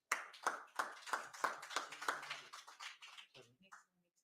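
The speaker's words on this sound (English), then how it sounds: "We start off with Stacy Leila Ford, and a round of applause." Sparse, faint clapping from a small gathering at a certificate presentation, a quick run of separate claps that thins out and fades after about three seconds.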